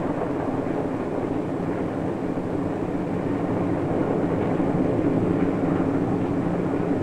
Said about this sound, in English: While the train speeds into the dusk, the porter prepares beds for his passengers.